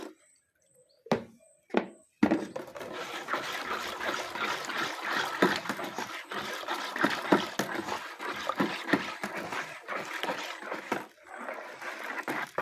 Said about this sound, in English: so my next ingredient is my STPP, and as usual I filter it